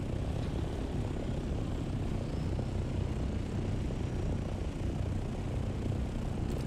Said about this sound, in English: He just spawned his copter.